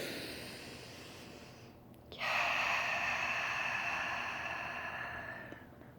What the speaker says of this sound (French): je vais respirer quelques coups